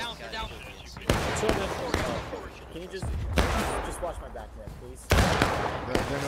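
Several loud, sharp gunshots ring out at irregular intervals in a War of Rights match, separated by quieter gaps, while a player talks over the exchange of fire.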